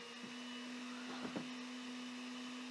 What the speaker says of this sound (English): please ignore the blender